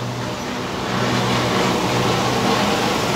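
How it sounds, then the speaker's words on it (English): A very big truck passing by on a road, a loud, close, broadband engine and tyre roar that swells slightly and holds steady throughout. "So here comes a very big truck."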